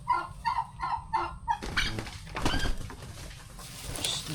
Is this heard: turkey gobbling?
yes